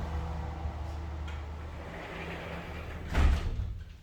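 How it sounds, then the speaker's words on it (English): A sliding balcony door is pulled shut with a single brief rumbling slide and thud, close by, over steady room hum. "Let me just close the door of the balcony."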